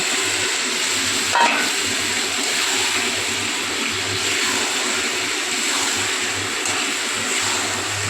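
Chicken pieces frying in a spice paste cooked down with a little oil and green chillies for a chicken curry, giving a steady close sizzle with soft stirring scrapes and one brief clatter near the start.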